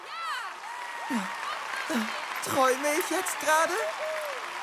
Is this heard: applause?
yes